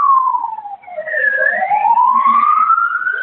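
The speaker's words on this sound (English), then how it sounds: "whoever's got a siren in the background, mute your mic" A wailing emergency siren, rising and falling in a slow sweep, comes through loudly and alone over an online call's microphone.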